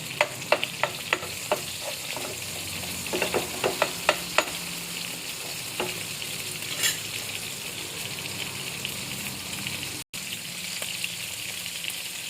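Garlic sautéing in a pan for Bisaya humba, a continuous sizzle with a run of sharp spatula scrapes and taps early on, then steady frying with a brief dropout near the end; no voices.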